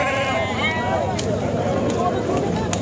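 Madgyal sheep bleating at a livestock market, several wavering calls heard close by amid the busy crowd noise and chatter of the trading ground.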